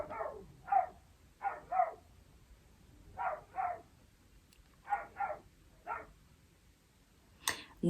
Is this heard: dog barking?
yes